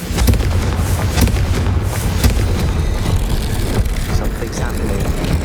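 Confringo fire spell explosion in the Hogwarts Legacy video game: loud, dense booming blasts and crackling bursts rumble continuously for several seconds, with a voice mixed in.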